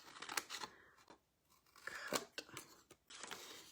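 Scissors snip through a paper craft lid in clear, close bursts of crunchy cuts, with a brief pause in the middle and no talking.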